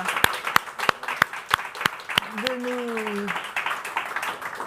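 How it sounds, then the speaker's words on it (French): Scattered audience applause at a discussion event, starting as a few sharp separate claps and building into steady clapping, with a voice and a brief tone over it. "Je crois qu'on peut vous applaudir et vous remercier 1000 fois"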